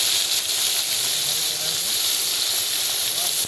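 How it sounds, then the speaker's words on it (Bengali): Fish frying in a pan at a riverside cookout by the Damodar River, a steady bright sizzle and hiss filling the whole stretch, with faint voices in the background. "বন্ধুরা এখন আমাদের মাছ ভাজা শুরু হয়ে গেছে।"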